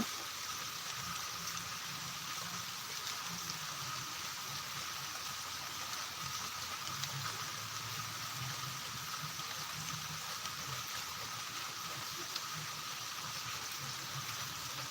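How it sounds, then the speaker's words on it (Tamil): Steady rain hisses evenly throughout, a dense, continuous wash of drops under dark cloud in Chidambaram, with no pauses or voices. "சீரான மழை பெஞ்சிட்ருக்கு"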